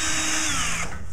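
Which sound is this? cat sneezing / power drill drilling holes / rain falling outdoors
power drill drilling holes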